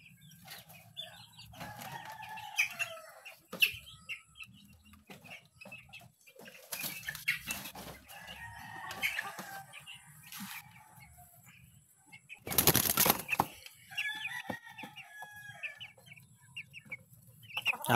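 Backyard chickens, chicks and a rooster cluck in short, scattered bursts while being fed. One burst of wing flapping rises briefly near the end, close and alone without speech.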